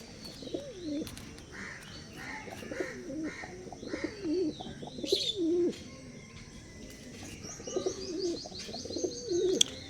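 Punjabi Malbai pigeons coo nearby in repeated low, throaty phrases, with light chirps and a brief flutter of wings, all fairly quiet and without talking.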